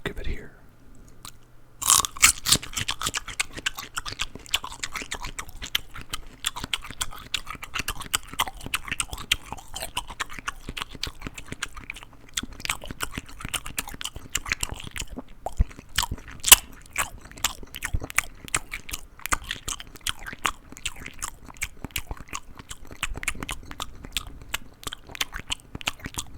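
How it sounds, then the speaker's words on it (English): Crunchy raw celery is bitten and chewed close to the microphone, giving a long run of sharp, dense crunches and wet mastication sounds that continue steadily with little pause. "I'm glad that I got the celery. I was thinking the carrots, but then I saw the celery and I was like, that's always very crunchy."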